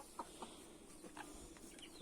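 Young chickens on a farmyard give a few soft clucks and peeps, brief scattered calls at close range over a quiet background.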